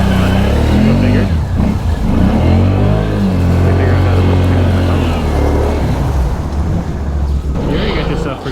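A Can-Am Outlander 650 XMR quad fitted with S3 extended swing arms churns through a deep mud hole in reverse, its engine loud and close, droning and surging steadily throughout.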